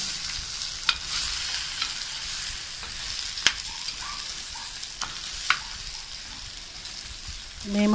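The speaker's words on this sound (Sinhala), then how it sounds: "පිපිඤ්ඤා මිශ්‍රණය දාගන්නවා මේක හොඳට අපි දැන් තෙලේ මිශ්‍ර කරගන්නවා" A cucumber mixture stirred and fried in hot oil in a pan gives a continuous sizzle with sharp scraping clicks from the utensil at irregular intervals, close and fairly loud.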